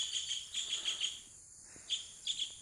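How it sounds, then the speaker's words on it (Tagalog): Thin, high bird chirps repeating in quick bursts, fairly faint and a little distant, with a short pause midway before the calls resume. "Ayun, may mga ibon dyan."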